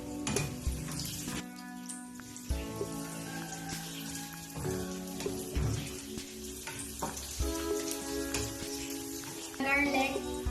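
Olive oil sizzling in a cooking pan, a crackling fry with clinks and stirring noises running through the clip, with some tonal background sound mixed in.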